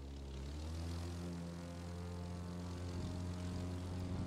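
A classic propeller airplane engine in the racing game The Crew 2 drones steadily for the whole stretch, a low harmonic hum with propeller buzz that swells slightly at the start, alone with no voices.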